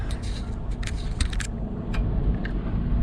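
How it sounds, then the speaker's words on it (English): A parked truck's engine idles in a Wyoming windstorm, a steady low rumble throughout with light metallic clicks and rattles over it. "so I turned the truck on"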